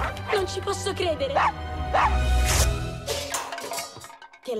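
A dog revived by electricity barks and whimpers in a run of short yips, loud and close, with voices talking over it against music.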